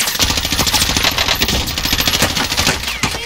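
Sustained rapid gunfire rattles loudly and continuously through a Call of Duty Warzone battle, dense overlapping bursts with metallic clatter and no pauses.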